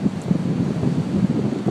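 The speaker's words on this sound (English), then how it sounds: "the wind gusts are coming through" Strong wind gusting through a blowing snowstorm, a continuous loud roaring rush with surging swells and no voices.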